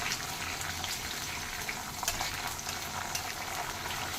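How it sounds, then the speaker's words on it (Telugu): Ginger-garlic paste and green chilies fry in a pan for pav bhaji, making a steady, fairly quiet hiss of sizzling oil with faint stirring throughout. "బాగా వేయించుకోండి"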